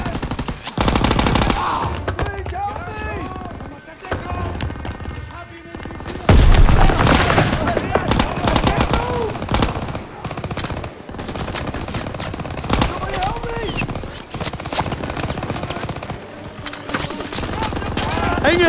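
Machine gun fire and gunshot bursts from a World War II battle in Call of Duty: WWII, sustained and loud, with booms and shouted voices mixed in throughout.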